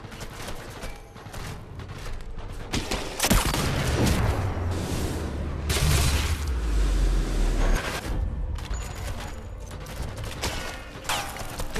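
Sniper rifle fire in the Sniper Elite VR game, with repeated loud sharp shots and booming blasts spread through a dense, continuous battle din, no talk over it.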